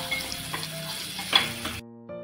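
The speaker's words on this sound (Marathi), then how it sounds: "आता कांदा आपल्याला मस्त असा गोल्डन होईपर्यंत चांगला परतून घ्यायचा आहे" Finely chopped onion and curry leaves sauté in a pan for a village-style pithla, frying with a close, steady sizzle and a few stirring scrapes before a sudden cut to near silence.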